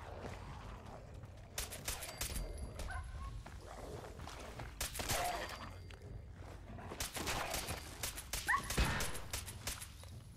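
Dogmeat, the dog companion in Fallout 4, whimpering and yipping in short bursts amid scuffling footsteps and sporadic gunfire-like cracks.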